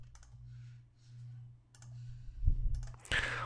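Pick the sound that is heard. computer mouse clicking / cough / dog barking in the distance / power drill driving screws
computer mouse clicking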